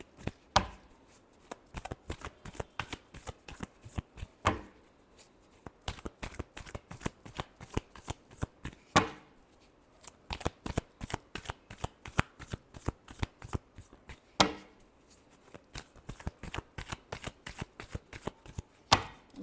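A deck of tarot cards is shuffled close by in long runs of rapid riffling flutters, repeated about every four to five seconds with brief pauses between rounds. No voice is heard.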